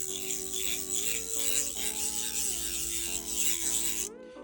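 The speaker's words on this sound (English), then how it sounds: "So let's do the drag clicker" Continuous fine ratcheting clicks from the drag clicker of a KastKing Valiant Eagle 2 Pro baitcasting fishing reel, close up and steady for about four seconds before stopping abruptly.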